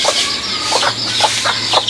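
Chickens cluck in a quick string of short, close calls over a steady low background hum.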